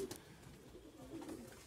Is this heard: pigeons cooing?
yes